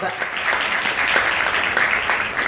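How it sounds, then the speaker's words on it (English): Audience applause for an award guest at a women empowerment awards ceremony, a dense, steady patter of many hands clapping close by throughout, with voices mixed into the crowd noise. "Let's give her a huge round of applause."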